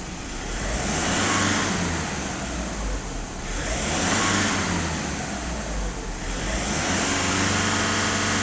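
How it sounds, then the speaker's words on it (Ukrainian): A Skoda Octavia 1.6 TDI diesel engine revs up and down on its own during an adaptation routine, rising and falling in three steady surges, loud and close with no voices. "Зараз автомобіль газує, сам адаптує, шукає виклоп."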